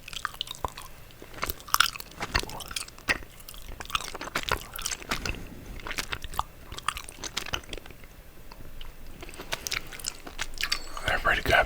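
Swedish Berries chewy candy is chewed close to the microphone in whispered ASMR style, with soft wet smacks and squishy bites in an irregular rhythm and occasional quiet whispering.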